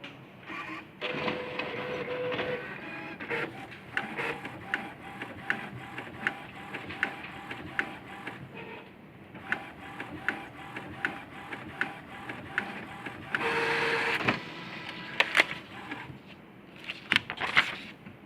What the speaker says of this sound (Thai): รับผมกดยกเลิกเพื่อจะเทสหัวพิมพ์ให้ดูนะครับว่ายังออกปกติทุกสีนะครับ